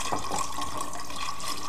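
Green juice pours steadily into a half-gallon mason jar, a continuous close liquid splashing and trickling that fills the whole moment without a break.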